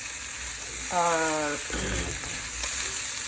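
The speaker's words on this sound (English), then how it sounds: "Vegetable stir fry with shrimp." A vegetable and shrimp stir fry sizzles in a wok with a constant bright hiss. A short tonal hum-like voice sound rises briefly in the middle, followed by a low, rumbling stir.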